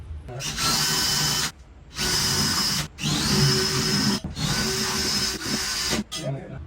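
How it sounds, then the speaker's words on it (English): A power drill bores holes for pole toggle anchors while a California Closet is being installed: several long, steady whining bursts separated by brief pauses, loud and close, with no talk. "So I'm just going to go ahead and drill these."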